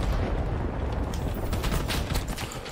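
A grenade blast in Rising Storm 2: Vietnam, a loud, dense rumbling boom mixed with surrounding gunfire-like crackle, filling the short clip close up with no speech.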